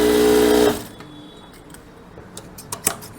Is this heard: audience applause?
no